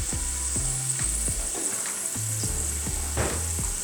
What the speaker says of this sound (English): Now we're gonna soften the onion and the spring onion